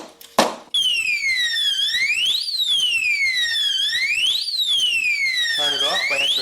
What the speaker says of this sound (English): Now if anyone tries to touch this, an alarm will sound